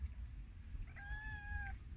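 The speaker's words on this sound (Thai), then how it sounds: "แมว" A cat sitting in the morning sun gives a single clear, drawn-out meow of about a second, heard alone over faint background noise.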